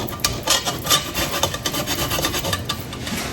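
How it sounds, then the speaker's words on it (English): A navel orange rubbed over a zester, a rapid run of close, raspy scraping strokes at an even pace, with no voices. "I'm going to run this over the zester, and you just want the top portion"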